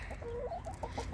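Hens clucking close by while pecking at chicken grain scattered on the ground, a run of short, rising and falling clucks over a busy background of farmyard noise.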